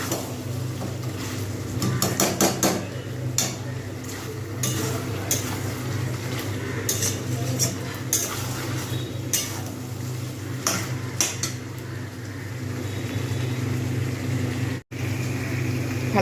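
Chicken with fried onions sautéing in a pot for a potato chicken curry, a low continuous frying hiss broken by repeated close clinks and scrapes of a spatula against the pot, with no talk.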